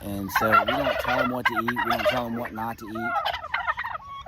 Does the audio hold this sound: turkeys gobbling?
yes